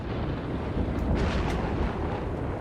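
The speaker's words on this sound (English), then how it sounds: "It's a lot of thunder booms." Heavy thunder from a thunderstorm battering a city in the video game Cities: Skylines: a dense, continuous low rumble with overlapping booms that swell and roll without pause, loud and close, with no voices.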